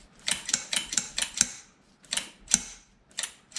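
Rapid metallic clicks and clacks as the bolt of a Rock Island Armscor TM22 rifle is worked back and forth by hand, close up and crisp, in two quick bursts of sharp mechanical snaps with a short pause between, no talking.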